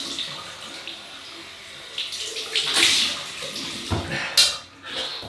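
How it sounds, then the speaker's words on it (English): Cold water runs from a sink tap for a rinse during a wet shave with a safety razor, a steady splashing stream with bursts of splashing as water hits the face and basin, close by and without speech. "So cold water rinse."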